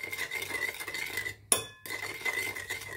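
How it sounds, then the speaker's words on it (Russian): A spoon or fork stirs a salad dressed with parsley dressing, giving soft scraping and a sharp clink against the bowl midway, faint and close with no talk. "Поэтому я вот так добавляю и все перемешиваю."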